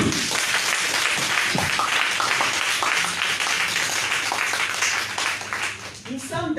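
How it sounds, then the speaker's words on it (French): Applause from an evening church gathering audience, dense clapping sustained across the whole stretch with voices mixed in, thinning slightly near the end. "Alors applaudis pour toi"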